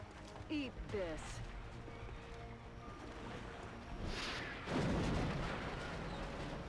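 In the video game XCOM Enemy Within, a rocket explodes with a deep, rumbling boom about two-thirds of the way through, rising over a busy bed of game effects.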